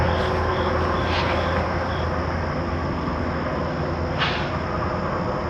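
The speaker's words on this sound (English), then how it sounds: "those trains scared the crap out of me" A train rumbles past on a small bridge overhead with a steady, heavy roar that fills the whole stretch, a low hum running beneath it.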